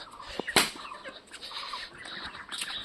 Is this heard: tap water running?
no